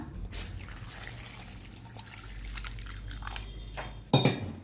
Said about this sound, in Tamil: இதில் வந்து தண்ணி ஊற்றிக்கலாம்.